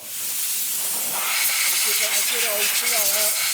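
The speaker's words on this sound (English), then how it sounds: "So get yourself a good air blower." Loud continuous hiss of an air blower clearing grit from around the solenoid holes on a Vauxhall Insignia 2.0 turbo engine, with faint squeaky tones rising in the background.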